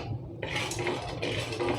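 Peanuts lightly roasted in a pan, a steady dry rattling and scraping of nuts stirred against metal, close and continuous for a couple of seconds with no speech.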